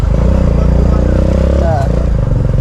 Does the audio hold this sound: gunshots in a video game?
no